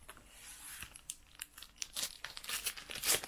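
A Panini Adrenalyn XL Premier League 2024 card pack wrapper crinkles and tears open close up, a burst of crisp foil rustling that grows louder toward the end, with no voices.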